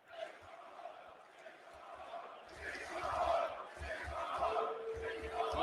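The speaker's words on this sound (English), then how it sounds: "It's just the crowd's so good here too." An arena crowd cheers at the NXT UK TakeOver Blackpool wrestling event, faint at first and then swelling into louder, sustained roaring after a few seconds, distant beneath voices talking.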